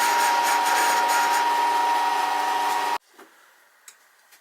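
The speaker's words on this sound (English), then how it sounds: "I'll now take the cut all the way along, stop just before the hole where the compound slide fits in" A milling cutter on a Myford Super 7 lathe takes a steady cut along the underside of the top slide, a loud continuous whirring grind that runs unbroken for about three seconds, then stops abruptly, leaving faint taps and small clicks.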